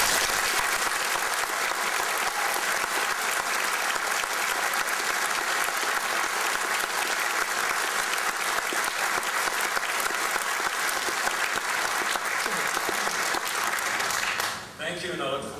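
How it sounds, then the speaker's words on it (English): At a cadet ceremony, an audience gives a long, enthusiastic round of applause for the cadets, a dense, steady wash of clapping that holds at full strength for many seconds, then tapers off as a voice resumes speaking. "please join with me in an enthusiastic round of applause for these exceptional young men and women"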